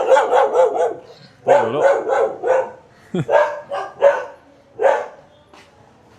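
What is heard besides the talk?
dogs barking in India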